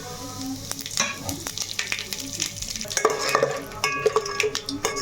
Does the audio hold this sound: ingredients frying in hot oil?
yes